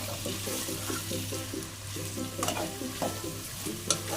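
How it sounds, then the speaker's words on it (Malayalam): Potato, soybean chunks, beans and carrot sautéed in a pan for vegetable pulao, with steady stirring and scraping over a soft continuous sizzle and a low steady hum, close and moderately loud, no talking. "ഇതിലേക്ക് നമുക്ക് നമ്മൾ കട്ട് ചെയ്ത് വെച്ച സോയാബീന്, ബീൻസ്, ക്യാരറ്റ് എല്ലാം കൂടി ഇട്ടിട്ട് ഒന്ന് വഴറ്റി കൊടുക്കാം"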